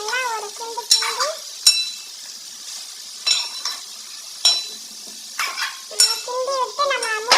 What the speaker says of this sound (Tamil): இப்போ எல்லாத்தையும் சேர்த்து நல்லா ஒரு கிண்டு கிண்டி